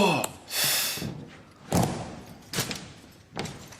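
Soldiers' wooden heels stomp during a U.S. Army drill as four loud, sharp thuds spaced about a second apart, with quiet room noise between them.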